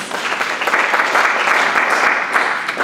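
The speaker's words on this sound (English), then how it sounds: "Round of applause, please" A loud, close round of steady applause fills a hall at a Juneteenth celebration after a poetry reading, dense clapping holding an even level for about three seconds.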